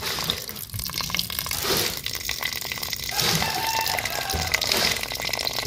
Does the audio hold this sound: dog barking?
no